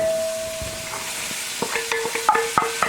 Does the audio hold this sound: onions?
yes